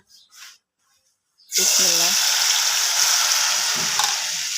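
Pitha batter poured into hot oil, opening with brief speech and a pause before a sudden loud, close sizzle that holds steady and hissing to the end.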